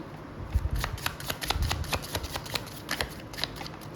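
Tarot cards riffle and slide against one another while one card is drawn from the deck, a quick close series of papery flicks and snaps.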